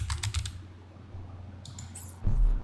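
A few short bursts of keyboard typing, entering a word into a puzzle game, close and moderately quiet over a low steady hum, with a pause between clusters of keystrokes.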